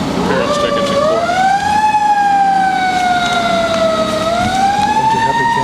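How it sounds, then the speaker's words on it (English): A fire truck siren passes outside a village board meeting room, loud and sustained, its pitch sweeping slowly up and down with rumbling noise underneath. "Which is louder, the fire truck or the air conditioner?"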